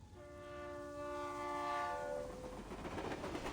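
A train in the video game Reverse: 1999 gives a sustained horn-like tone over a steady rolling rumble of rail cars, with no talk.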